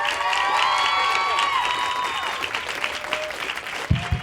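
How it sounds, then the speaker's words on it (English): Enthusiastic audience applause and cheering at an Apple Store event welcoming guests onstage, a dense sustained wash of clapping with whoops, fairly close and loud throughout. "Big round of applause."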